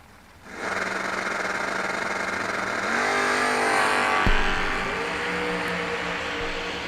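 A Pro Stock style Chevrolet S10 at a drag racing event launches with a sudden loud engine roar that climbs steeply in pitch through the gears, staying close and powerful for several seconds.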